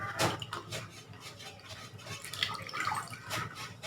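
Cloth dipped into a bowl of water at home for bleaching, giving close wet drips and splashy trickles with light clinks against the bowl, steady throughout.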